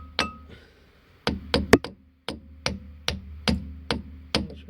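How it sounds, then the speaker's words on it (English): Several light hammer taps seat a grease cap over the rear drum wheel bearing of a Chevrolet Matiz: sharp metallic knocks, a quick cluster of three then evenly spaced single taps, close and clear with no talk. "Give it a couple of light taps with the hammer."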